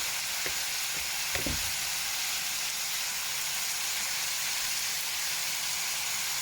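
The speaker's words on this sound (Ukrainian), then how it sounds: "смажиться." Rice sizzling and frying steadily in a pan on a home stove, a continuous close hiss with a few brief stirring knocks near the start.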